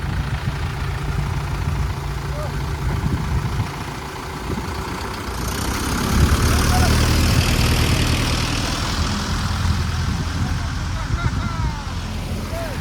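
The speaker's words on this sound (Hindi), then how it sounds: "ये इसका ट्रैक्टर का 4x4 चालू कर दिया गया है।" A tractor engine runs steadily with its 4x4 drive engaged, a loud low rumble that swells and grows heavier about halfway through and holds to the end.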